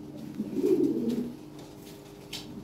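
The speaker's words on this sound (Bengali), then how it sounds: "এটা লাল লাহরি, এটা টপ কোয়ালিটি এবং বিগ সাইজের কবুতর" A big red Lahori pigeon at a pigeon fair gives a single soft, low, rolling coo close by, followed by quiet background.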